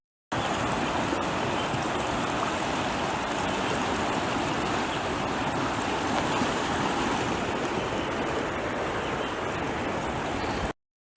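A swollen creek rushing along a spring trail in Wisconsin's Kettle Moraine, a dense steady broadband roar of fast-flowing water heard close up, unbroken from start to finish.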